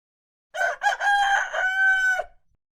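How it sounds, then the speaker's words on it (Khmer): A single loud rooster crow, close by, rising and holding for about two seconds before cutting off into quiet. "ក្រោកឡើងមាន់រងាវ2 ដងហើយណា"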